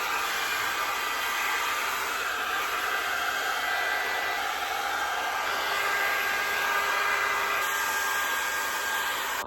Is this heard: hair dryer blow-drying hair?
yes